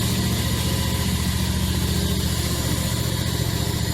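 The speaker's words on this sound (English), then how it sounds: "Driving a zero turn one-handed is not easy, folks." A zero-turn lawn mower is driven along, its engine giving a steady, loud, low rumble that continues without a break, with no talk.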